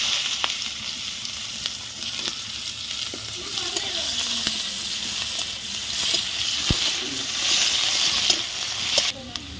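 Onions frying in hot oil with panch phoron, dried red chillies and bay leaves: a steady close sizzle that swells louder toward the end, with faint stirring clicks and scrapes.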